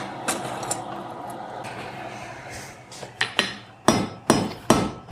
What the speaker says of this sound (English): So I'm starting by making a relatively short taper here, and I'm gonna do the same in the other end.